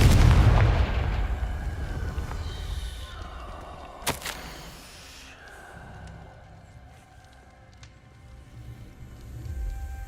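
A Confringo blasting spell explodes in Hogwarts Legacy, opening with a loud rumbling burst followed by a single sharp crack and a fading tail, with a voice briefly heard amid the game sounds.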